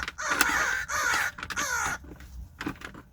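Crows being hand-fed outdoors give a run of loud, close caws in quick bursts, then a few scattered calls as they quiet down.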